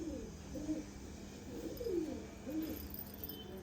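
Pigeons for sale coo in soft, repeated low calls, several rolling coos spaced about a second apart, fairly faint against a quiet background hum.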